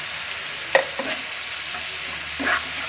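Spice paste (masala) with turmeric is stir-fried in a pan, giving a low steady sizzle broken by a few brief scraping strokes of the spatula.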